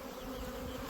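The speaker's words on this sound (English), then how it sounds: "They are swarming a lot harder than the other bees." Honey bees swarm around an opened hive, their buzzing a dense, unbroken drone close by, with no voices.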